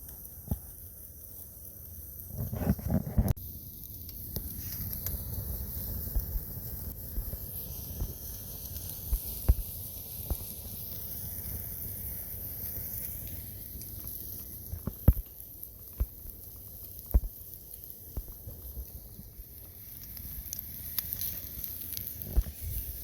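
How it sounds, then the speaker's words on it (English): A ribeye steak sizzles softly in a hot pan, a steady faint hiss broken by scattered pops and crackles. No voices are heard. "Sizzling just like Applebee's, dude."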